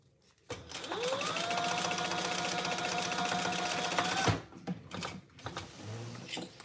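A sewing machine runs steadily for about four seconds while stitching a trifold wallet, a close, even motor whir with rapid needle rhythm, then stops abruptly and leaves a few soft handling clicks and knocks.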